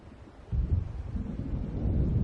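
Low rolling rumble of thunder from an approaching storm in the game Alan Wake, swelling after a quiet start into a sustained deep growl with faint wind.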